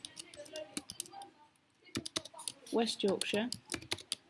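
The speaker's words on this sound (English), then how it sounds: "we need to type in the company logo" Keys on a computer keyboard tapped in short irregular clicks during office data entry, under a voice speaking over most of the stretch.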